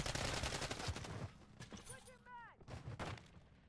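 Akimbo JAK Wardens shotguns in Modern Warfare 3 fire in loud, rapid blasts at the start, followed by scattered shots and game effects, with someone talking over the gunfire.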